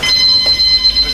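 A boxing ring bell rings at the end of a round in a martial arts fight, a sustained bright metallic tone holding steady and loud throughout with no talk over it.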